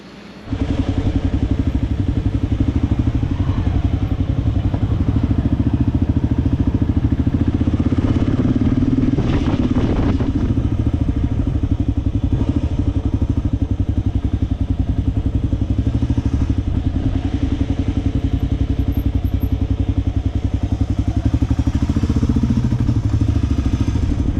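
Motorcycle cruising on a highway in India toward Jaipur, a loud, steady engine drone with constant wind rush for the whole stretch and no pauses.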